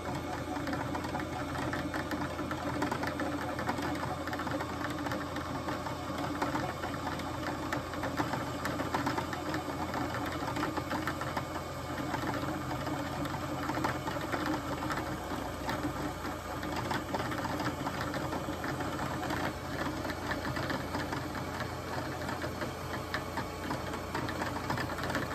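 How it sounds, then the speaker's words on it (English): A Brother CS7000X sewing machine winds a bobbin with a steady, fast mechanical whir that runs unbroken and fairly loud from start to finish, with a light rattle underneath. "So now you're seeing my bobbin getting filled up."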